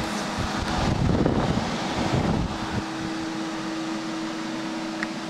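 Fans in an acrylic gaming computer case blow air in a steady close whoosh with a low hum, louder and rougher at first, then settling into an even drone.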